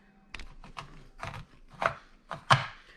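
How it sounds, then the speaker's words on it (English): A knife chops a chocolate bar firmly on a cutting board, six or seven uneven thuds that grow louder toward the end, with quiet gaps between them. "Once you're done chopping the chocolate,"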